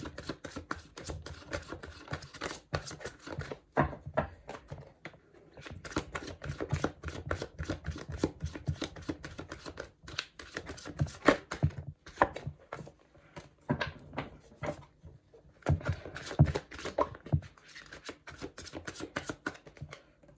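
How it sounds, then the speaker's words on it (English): Tarot cards are shuffled by hand in repeated bursts, crisp riffling and tapping flurries separated by short pauses, close and quiet with no speech. "it takes longer when I shuffle"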